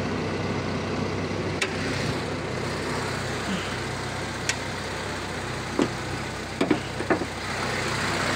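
A Chevrolet Tavera engine idles steadily with the air conditioning running, a smooth continuous low hum with a few faint clicks and light knocks over it, no talking.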